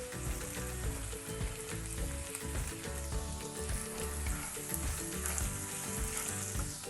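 Finely chopped onions fry with salt in a pan, a loud continuous sizzle and crackle with no talking throughout.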